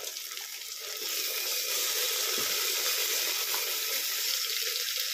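Ginger garlic paste with red chili powder, turmeric and coriander powder frying in a pan for dry meat masala, giving a loud, steady hiss that swells slightly after the first second, with no talking.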